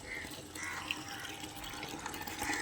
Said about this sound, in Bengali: এখানে জল ধরছি ওখানে। চলো তাহলে আগে জলটা ধরে নিই